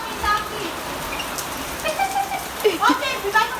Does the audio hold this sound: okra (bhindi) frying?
no